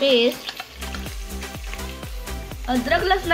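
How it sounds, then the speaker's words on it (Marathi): Slit green chillies hit hot oil with golden-brown fried onion, a steady close sizzle and crackle with stirring scrapes, a voice talking briefly at the start and end. "त्यात मी आता उभ्या चिरून घेतलेल्या हिरव्या मिरच्या टाकून घेत आहे।"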